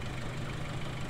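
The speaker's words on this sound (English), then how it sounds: "This does seem to drift, this tractor." A tractor in Farming Simulator 19 idles with a low, steady engine drone and faint knocking, constant and even throughout with no speech.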